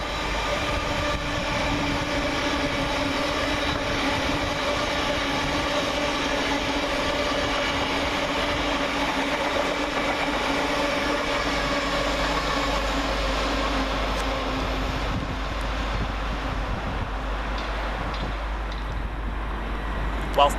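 LNER Class 801 unit 801212 passes northbound on the fast line through Peterborough station, a loud, steady roar of rolling wheels and traction hum lasting throughout without a break.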